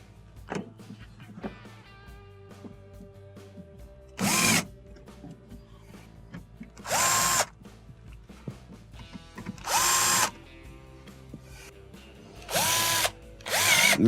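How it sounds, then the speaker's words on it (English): A power drill drives screws into refrigerator parts during an icemaker water inlet valve repair on a Hotpoint fridge, in four separate whirring bursts of a few seconds each, close and clear, with quiet pauses between them and no talking. "Now with all our screws lined up and in, we're gonna just tighten them all down."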